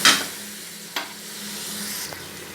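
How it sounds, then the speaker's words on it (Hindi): Nihari masala with salt, red chili and coriander powder sizzles in a pan with a splash of water, with a few scraping stirs over a steady close frying hiss. "थोड़ा सा पानी डाल के इसको भून लेते हैं।"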